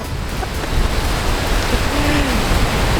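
Rain falling at a beach in Australia, a dense steady hiss with low rumbling wash throughout.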